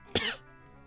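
One quick, close cough, brief and sharp, fading into faint background hiss.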